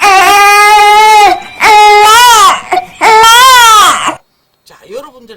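A baby's loud, close hungry crying comes in three long wailing bursts, then fades into a faint whimper.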